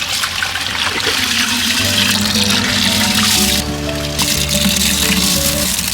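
Water pours steadily into a large pot of soaked rice and lentils for sambar rice cooked in bulk for a hundred people, a loud continuous gush with a low hum underneath and no talking.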